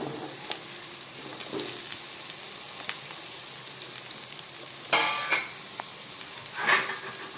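Chopped cucumber goes into onions frying in a pan, a steady near sizzle and hiss with a couple of brief louder bursts as the pieces hit the oil.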